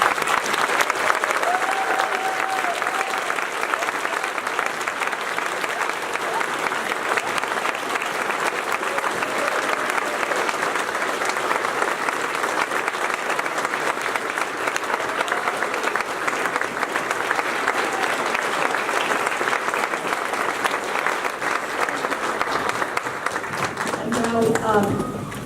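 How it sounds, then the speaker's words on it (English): An indoor audience at a high school building dedication applauds in a long, loud, steady round of clapping that continues throughout, with faint voices underneath. "we all owe them all, both of them, a round of applause"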